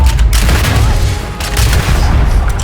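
Heavy weapon fire and booming explosions in the space game Starfield, a dense loud barrage of blasts and shots with rumbling low end throughout.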